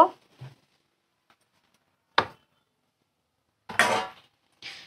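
Food with a little added white oil is stirred in a cooking pan, with a handful of separate scraping clinks of a utensil against the pan, each brief and spaced apart with near silence in between.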